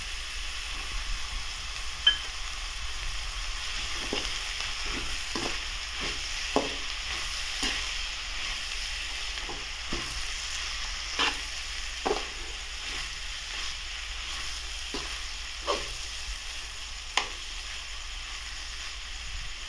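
Green chilies, ginger, garlic and fresh coconut sizzle steadily in a hot pan, with a spatula scraping and stirring at irregular intervals over the constant frying hiss.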